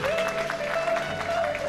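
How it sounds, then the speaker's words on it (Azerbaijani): Applause from wedding guests at a small village wedding in Borchali, a dense steady patter of clapping that carries on throughout with a sustained musical tone running beneath it. "600 km yol gələn Elman Namazoğlunu bir alqışlar gəlsin onun kollektivinlə bərabər."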